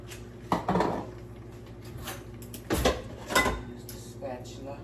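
Cookware clatters as eggs go into a pan while making breakfast, with a few sharp metallic knocks and scrapes spread across the clip over a steady low kitchen hum, close and moderately loud.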